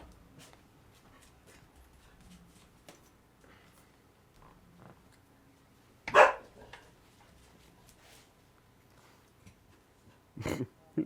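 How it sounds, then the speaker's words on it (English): A dog gives a loud nearby bark, then a second burst of barking near the end, with quiet stretches of room noise in between. "The dog's barking."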